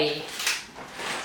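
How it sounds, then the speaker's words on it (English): A pantry pasta drawer slides open in a brief soft scrape and rumble, with a voice talking over it. "Okay, pasta drawer."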